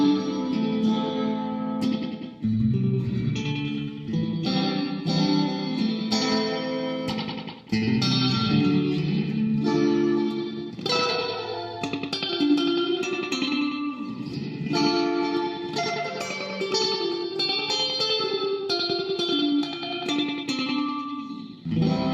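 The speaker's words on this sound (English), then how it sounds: "I can do that with the long as well, the reverb." Klemt Echolette NG51 tape delay unit adding reverb to a dense played instrument, a continuous wash of sustained, echoing tones with steady loudness throughout and no talking.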